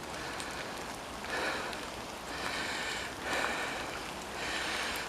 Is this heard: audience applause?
no